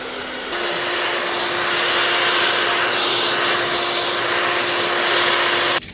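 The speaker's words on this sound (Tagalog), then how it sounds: "Takot sa blower, eh." A pet dog is dried with a blower after its bath, a loud, steady high-pitched whooshing hum that kicks in abruptly after a half second and runs without a break until it cuts off at the end.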